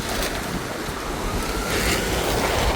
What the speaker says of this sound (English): That wind just blew me into that bed then. That's how strong the wind is.